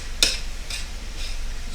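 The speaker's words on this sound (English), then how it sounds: "You can put the spoon in the thing and stir it around." A spoon stirs pasta with sausage in a pot, giving a few light metallic scrapes and clinks at roughly half-second intervals, close by and otherwise quiet.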